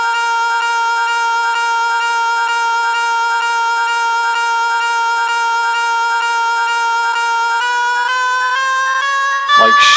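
A vocal riser effect, a sustained synthesized vocal tone transposed up one octave over four bars, holds steady and loud before climbing in pitch near the end, alone without talk.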